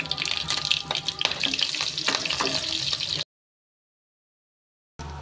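Mustard seeds, onion and curry leaves hit hot oil for a brinjal sambar and give a loud, close, crackling sizzle for about three seconds. Silence follows, then the frying briefly returns.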